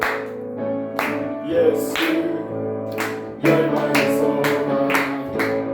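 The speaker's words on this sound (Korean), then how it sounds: "계속해서 박수하면서 찬양합니다." A church congregation claps in rhythm while singing a worship song during a Sunday service, steady loud beats landing under the singing voices and accompaniment.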